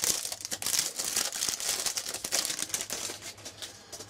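Packaging for a Lenovo Yoga Tablet 8 crinkles and rustles as the parcel from China is unwrapped by hand, rapid close crackling bursts continuing throughout.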